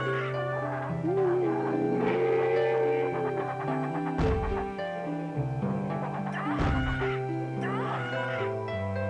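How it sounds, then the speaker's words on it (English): Warbling, chirping bird-like calls from dragons in Playtoons: Uncle Archibald, over layered game music, with a couple of low thumps; the creature cries rise and fall continuously throughout. "Why are they making bird noises though?"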